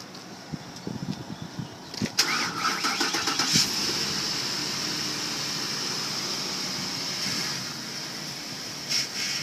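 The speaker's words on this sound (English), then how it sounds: "I'm going to start the vehicle up and pull forward just a little to get it lines up" An SUV engine cranks briefly and catches, then settles into a steady close idle that runs for several seconds.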